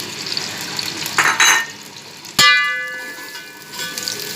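Sliced onions hit hot oil in a pan with a sudden loud sizzle partway through, after some clatter and stirring; the frying hiss carries on steadily and then fades slightly.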